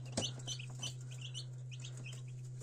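Soft, high-pitched peeping of newly hatched chicks from an incubator, scattered chirps repeating over a constant low electrical hum, with no talking.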